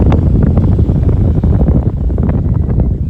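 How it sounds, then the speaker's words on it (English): Strong wind buffeting the microphone in loud, continuous rumbling gusts, with no voices. "It's windy."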